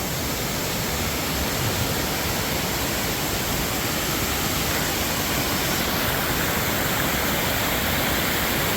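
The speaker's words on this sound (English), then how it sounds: "that's a pretty nice looking waterfall" Steady broadband rush of a waterfall at a prospecting site, loud and constant throughout with no break and no voices.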